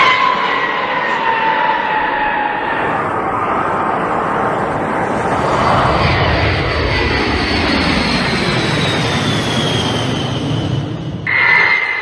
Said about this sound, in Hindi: ब्रिटेन में 2 B-52 लैंड हुए।